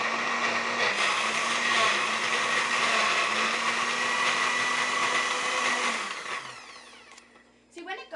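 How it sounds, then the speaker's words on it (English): A countertop blender whirs steadily while blending a fruit smoothie, a loud continuous motor drone lasting about six seconds before spinning down, followed by a brief voice at the very end. "we're going to blend it for about the same amount of time we blended it the last time."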